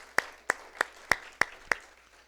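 A church congregation claps in praise. Six evenly spaced, sharp claps fall in a steady rhythm, fairly close and moderately loud, with quiet between them.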